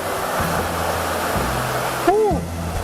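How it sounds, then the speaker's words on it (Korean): Water gushes in a small artificial waterfall released into a canal by pulling a rope, a steady close rushing roar with a brief voice partway through. "수로에 연결된 밧줄을 당겨 만들어 보여주는 폭포."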